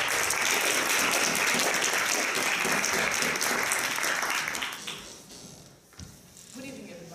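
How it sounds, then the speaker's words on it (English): An audience at an evening speaking meeting bursts into loud, sustained applause, a thick wash of many hands clapping that holds for about five seconds before fading out, followed by a few quieter sounds. "Let's welcome Raluca Culda with a round of applause."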